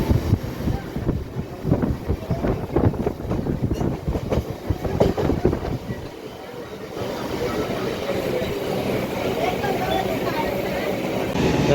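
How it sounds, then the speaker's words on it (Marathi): A Mumbai local train running, heard from on board with steady rumbling wheels and clattering on the rails, loud throughout, with wind buffeting the microphone and a smoother, more even roar in the second half. "तर मित्रांनो आता लोकल भेटले आम्हाला."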